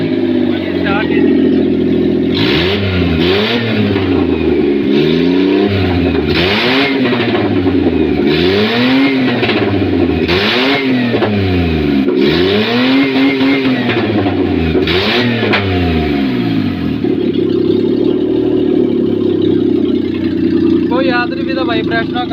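A Maruti Suzuki Omni engine running with the silencer removed is revved repeatedly, loud unmuffled bursts rising and falling in a steady cycle before easing back to a rough idle, with a person talking over it.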